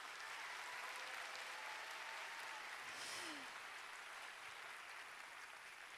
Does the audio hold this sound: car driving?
no